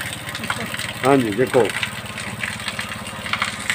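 A motorcycle engine idles steadily while running a water pump in a homemade rig that fills a tank, a continuous low mechanical drone with someone talking briefly over it.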